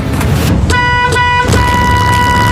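A school bus horn honks in a few sustained blasts over steady road and vehicle noise, the steady tones cutting in and out across the clip.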